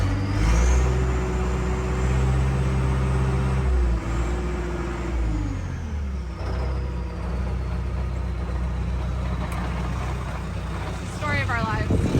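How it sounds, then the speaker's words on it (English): Truck engine idling loud and close, its pitch rising and then falling as it is revved up and dropped back, with a person talking over it. "When he revved it up, it went up."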